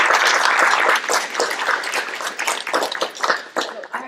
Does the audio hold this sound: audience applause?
yes